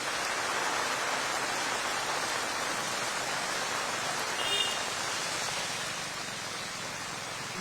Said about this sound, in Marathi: संजय मुसळधार पावसाला सुरुवात झालेली